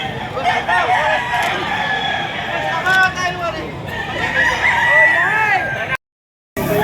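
Rooster crows repeatedly amid clucking fowl at a busy market, with people chatting in the background before the sound cuts out near the end.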